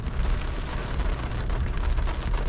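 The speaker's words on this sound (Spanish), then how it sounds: "fijaros la lluvia tremenda que está cayendo" Heavy tropical rain pours steadily on a street in Playa del Carmen, a dense continuous hiss of drops pattering on surfaces, loud and close with no pauses.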